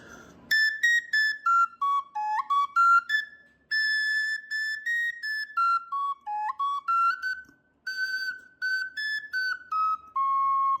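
A Sicilian friscaletto folk flute plays a slow tarantella melody of short separated notes, rising and falling stepwise, clear and solo with brief pauses between phrases.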